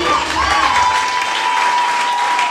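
A church congregation applauding to acclaim the Lord, a loud, dense crowd clapping that holds steady, with a sustained voice-like tone over it.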